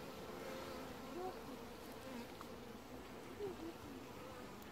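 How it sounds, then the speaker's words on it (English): Honey bees buzzing around an open hive during an inspection, a soft continuous hum with individual bees droning past, while people talk quietly nearby. "I got a bee on my hand right now."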